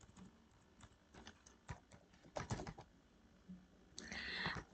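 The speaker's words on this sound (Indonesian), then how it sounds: "kemudian ketik data" Keys clatter on a computer keyboard as data is entered into statistics software, a quiet, close series of irregular clicks in short bursts, ending in a quicker run of taps.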